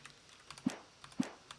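Soft computer keyboard keys clack in an irregular cluster while someone plays the video game Alan Wake, with two firmer presses standing out among quieter taps, close and fairly faint with no talking.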